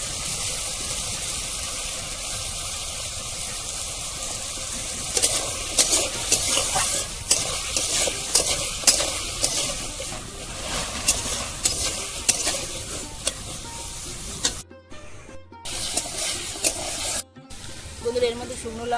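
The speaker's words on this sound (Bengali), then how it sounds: "হলুদটা দিয়ে ভেজে নেব" Spice paste of dried chilli, ginger, cumin, onion and garlic fries with turmeric and a little salt in a pan for ghugni, a steady close sizzle broken by frequent stirring scrapes.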